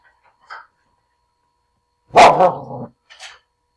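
A dog lets out one loud, close bark, with a couple of short, softer yips before and after in an otherwise quiet space.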